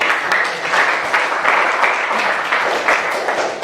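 Classroom full of schoolchildren clapping together for a classmate, a steady, fairly loud patter of many hands lasting a few seconds without talk.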